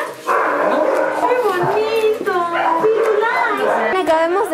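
Dogs at a shelter in Huancayo, Peru bark and yelp repeatedly in a lively, close chorus, with whimpers mixed in and people talking over them.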